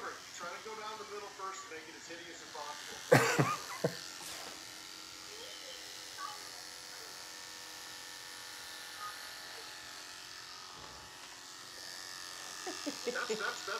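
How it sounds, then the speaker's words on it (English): Electric dog clippers buzz close by while shaving off a man's beard, the hum running faintly through the clip with a few louder bursts, while people talk over it. "these are her clippers"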